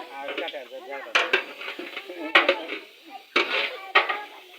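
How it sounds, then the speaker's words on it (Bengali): Metal pots and utensils clank as khichuri cooks for a Pohela Boishakh picnic, several sharp scraping clatters spaced a second or so apart, with people talking in between. "আমাদের পয়লা বৈশাখের অনুষ্ঠানের খিচুড়ি রান্না হচ্ছে"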